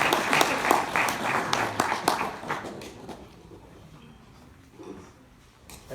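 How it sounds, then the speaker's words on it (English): An audience applauds at a university talk on human rights, the clapping loud and dense for about three seconds and then thinning out to scattered claps and quiet room noise. "Please give a round of applause to Arya Green"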